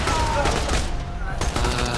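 Guns fire in Borderlands 2, bursts of close rapid shots and impacts in quick succession, with a voice talking briefly in between.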